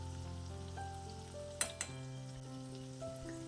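Finely chopped ginger frying in hot oil for a lemon pickle, giving a steady close sizzle throughout, with a pair of sharp clinks just past the midpoint and a faint tonal hum underneath.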